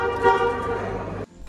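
A Nissan Magnite's wind-tone car horn sounds once, a loud steady two-tone toot held for just over a second before cutting off abruptly.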